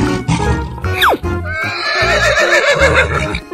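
A cartoon horse lets out a loud, close whinny with a sharp falling squeal and a long, shaky neigh after it, with nothing else around it.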